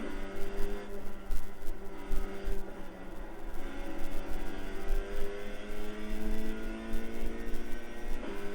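A race car engine drones continuously in a racing video game at the Nürburgring GP circuit, the steady high-revving note rising and falling through gear changes as the car pulls away, with no voices.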